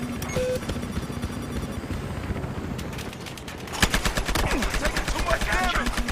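Gunfire in a first-person video game shooter, with bursts of rapid shots and single cracks over a constant game background; after a short quieter stretch the firing gets louder and denser toward the end.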